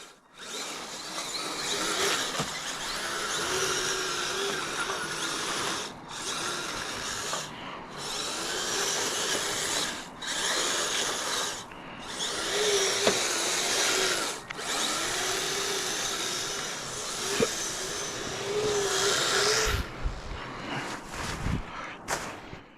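Kyosho Blizzard RC tracked vehicle with metal tracks and dual Traxxas 380 electric motors running, a loud continuous high whine with several brief drops and restarts, close by and without talking.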